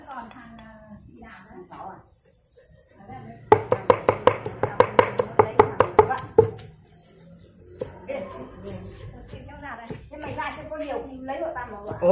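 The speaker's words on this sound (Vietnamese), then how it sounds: "Bây giờ mình sẽ thái dọc dọc sống vào nhé." A knife chops rapidly on a cutting board, about a dozen sharp evenly spaced knocks in a burst, with people talking before and after and birds chirping in the background.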